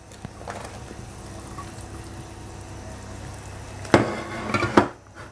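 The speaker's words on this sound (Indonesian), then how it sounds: "Saya akan masukkan tempe yang sudah dipotong-potong tadi." Cut tempeh pieces drop into boiling vegetable lodeh broth in a pot, with a low steady simmer and a couple of close splashes and clatters near the end.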